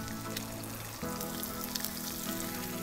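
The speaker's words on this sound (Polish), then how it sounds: "Położę na tej samej patelni, na której smażą się ziemniaki." Sliced ham and potatoes sizzle steadily together in a hot pan, a continuous close crackle and hiss with a low hum underneath.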